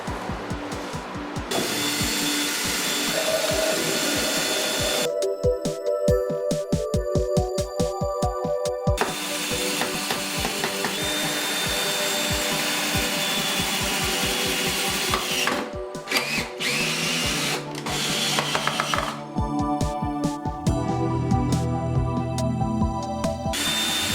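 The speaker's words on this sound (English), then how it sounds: "I'm going to drill some pilot holes to begin." A power drill whirs in repeated short bursts, close and loud, with brief pauses between each pilot hole bored into a wooden table.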